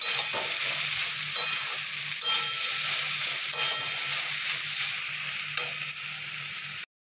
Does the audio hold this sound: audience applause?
no